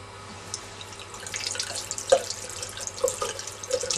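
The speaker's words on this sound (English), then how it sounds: "When the Clingo loses its stickiness, just rinse it under a tap" A Clingo sticky phone mount rinsed under a running kitchen tap, a steady close stream of water splashing, with a few drips and small knocks against the sink, and no voices.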